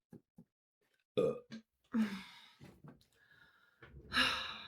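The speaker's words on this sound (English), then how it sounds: "I feel like I might burp every episode also." An adult lets out a couple of close, deep burps among quiet breaths and sighs, with a final low eructation rounding it off.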